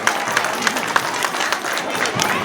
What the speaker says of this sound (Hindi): जोरदार तालियों से आचार्य जी का स्वागत करें